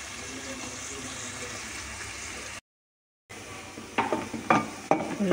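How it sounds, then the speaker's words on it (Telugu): Onions frying in a pan with salt give a steady, close hiss. After a brief silent gap, clattering stirs and scrapes of a spoon against the pan ring out over the sizzle. "ఉల్లిపాయలు వేగిపోయినాయి"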